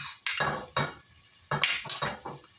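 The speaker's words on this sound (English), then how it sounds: "I'm sauteing the onions and celery" Onions and celery sauteing in a pot for a Mulligan-style fall stew, with a soft sizzle beneath several sharp scrapes and stirs of a utensil against the pot, bursts coming in irregular clusters, close and fairly quiet.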